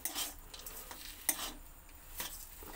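Potato chop filling stirred with a pinch of sugar in a kadai, giving soft scraping strokes and light sizzle with a few sharper clinks of spoon on metal, close and fairly quiet, no voices.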